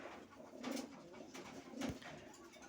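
A pair of pigeons, a male and a female, coo softly at close range, two low throaty coos rising and falling a second apart against quiet indoor background noise.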